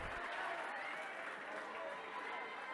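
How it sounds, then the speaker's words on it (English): Crowd applause fills a high school basketball gym, a steady dense wash of clapping and cheering from the stands as a player leaves the court. "Dylan Stewart exits to a round of applause"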